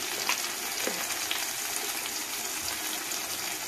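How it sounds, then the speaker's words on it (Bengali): Ground spices, including chili, cumin and meat masala, fry in a pan for a soybean malai curry, making a steady close sizzle broken by a few soft spatula scrapes as they are stirred. "এখন মশলাটা ভালো করে কষাতে থাকবো।"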